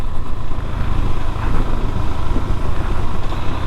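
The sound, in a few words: KTM Duke 390 BS6 motorcycle engine while downshifting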